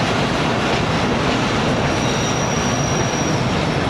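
228DN shuttle train rolling into Gurmani railway station in the morning, a loud continuous rush of wheels and carriage noise with a faint high squeal, no talk.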